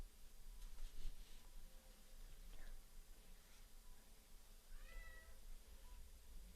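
Cat meowing outdoors amid soft breezy background noise, with a few short mews spread out and one clearer, louder meow near the end, no one talking.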